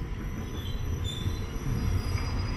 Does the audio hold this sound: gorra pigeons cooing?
no